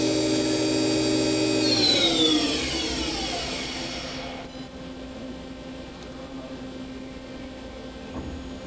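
A Milltronics CNC vertical mill drives its 63 by 20 inch table along the X axis, a whining servo tone sweeping down in pitch as the move slows, then settling into a quieter steady machine hum.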